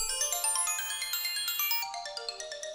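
Xylophone and glockenspiel struck together in a studio, bright ringing bar tones in quick overlapping notes with long shimmering decay, clear and close with no talking.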